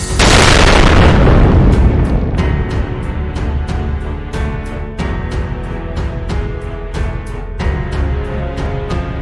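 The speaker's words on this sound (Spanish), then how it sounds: "el Huáscar atacó a los buques chilenos mediante un cañonazo que dio inicio al combate" A single heavy cannon shot from the ironclad Huáscar opening a naval battle against Chilean ships: one loud, close boom that rolls into a long rumbling decay, followed by a dense scatter of sharp cracks and bursts, with no voices.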